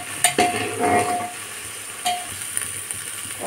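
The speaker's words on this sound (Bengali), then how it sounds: "এবার টমেটো কুচি আর পেঁপে সবগুলো দিয়ে একসঙ্গে ভালো করে কষে নেব" Chopped tomato and papaya stir-fried in a pan for a red spinach and lentil dish, a low continuous sizzle broken by a few spatula scrapes and clinks against the pan, close and moderately loud.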